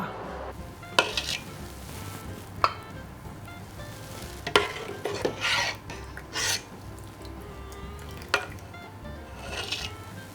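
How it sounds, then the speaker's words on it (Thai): A spoon stirs a thick purple sweet potato dessert in fresh coconut milk in a pot on the stove, making irregular scraping and sloshing strokes with sharp clinks against the pan between quieter swirling. "แล้วก็คนให้เข้ากัน"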